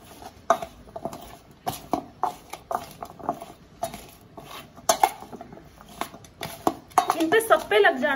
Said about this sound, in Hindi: अरारोट मिक्स कर रही हूँ